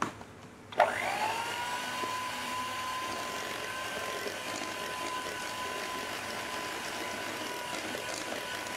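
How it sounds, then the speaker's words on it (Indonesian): An electric mixer switches on after a brief moment of quiet and then beats eggs and pie batter with a steady, moderately loud motor whir held at one constant pitch. "Lalu kemudian kita mixer sampai tercampur rata dan sedikit mengembang."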